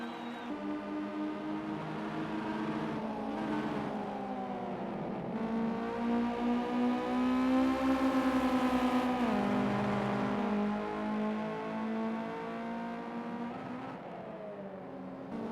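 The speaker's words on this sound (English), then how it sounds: "Yeah, unique noise comes out of these cars." Ginetta G40 race car engine in the Project CARS racing game at Dubai Autodrome Club, a steady, loud, droning engine note that rises and falls with throttle and gear changes through the whole stretch, with no talking.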